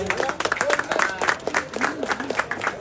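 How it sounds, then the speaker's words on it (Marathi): A crowd at a Dahi Handi festival event in Versova applauds to thank the performers, with dense, steady clapping at moderate distance and voices faintly underneath. "त्यासाठी आपण टाळ्या वाजवून त्यांचा आभार मानावा"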